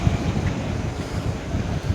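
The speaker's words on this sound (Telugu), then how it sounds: "మైక్లో గాలి సౌండ్." Heavy wind in a market area in Ethiopia blows straight into a microphone, giving a brief, steady rumbling buffet with no speech.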